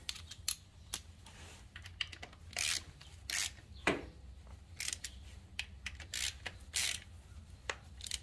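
Bolts on a Yamaha V Star 650 are snugged up by hand during an oil and filter change, giving scattered soft ratcheting clicks and light metallic taps, faint and close, with no talking.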